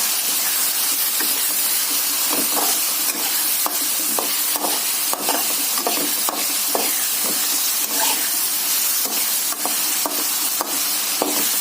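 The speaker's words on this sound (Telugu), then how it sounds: "ఉల్లిపాయలు వేగే వరకు తిప్పేసుకుందాం" Onions, green chillies and curry leaves fry in a hot pan for a chicken dish, a steady loud sizzle and hiss with repeated scraping stirs running throughout.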